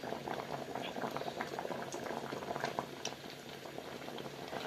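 Mango pulissery, a Kerala curry, boils in a pot with steady bubbling and popping throughout, moderately loud and close, with no talking.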